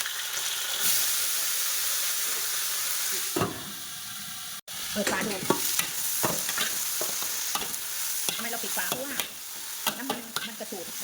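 Long beans stir-fried in hot oil with garlic and oyster sauce, a steady loud sizzle broken by scraping stirs and a brief hiss, with faint voices in the background.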